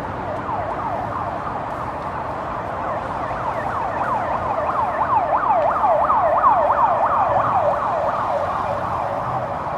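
An ambulance siren wails in a rapid, steady up-and-down yelp, continuous and fairly loud throughout, growing slightly stronger toward the middle as if approaching, with a low road rumble beneath and no voices.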